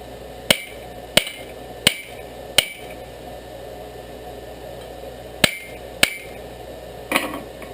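A hammer rings on hot rebar while forging a knife in a backyard blacksmith setup, with sharp metallic strikes in an irregular series of about seven blows and pauses between them, close and clear.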